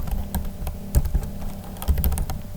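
Irregular clacking keystrokes on a computer keyboard, with a few heavier key presses standing out among quick light taps, close and alone.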